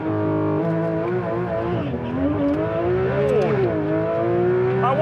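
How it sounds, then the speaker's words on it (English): A Porsche 911 GT3 RS Manthey launches hard under launch control, its engine howling loud and close as it climbs through the revs with a brief dip at a gear change, continuous throughout. "we can activate the launch control and off we go"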